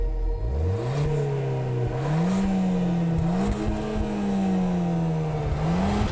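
A MINI John Cooper Works hot hatch launches in a drag race against a Ford Fiesta ST200, engine revving hard, pitch climbing through gear changes with a loud, continuous drone close by.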